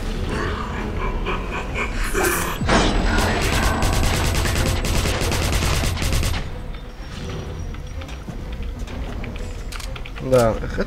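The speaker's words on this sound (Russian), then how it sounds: "Да, это хорошая пушка, автомат." Automatic rifle fire crackles in Wolfenstein. Dense rapid bursts run for several seconds between thuds and grunts, then fade into quieter game noise near the end. A voice talks over part of it.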